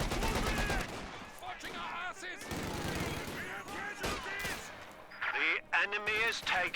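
Rapid bursts of .50 cal machine-gun fire rattle in a Company of Heroes 2 match at a world championship, repeated volleys mixed under constant excited commentary.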